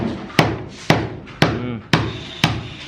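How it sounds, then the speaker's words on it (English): A hammer chips at concrete on a house construction site in the Philippines, giving six loud, sharp strikes at a steady rhythm of about two per second, close by, with each blow ringing out briefly. "Oh, the fun of the never-ending chipping."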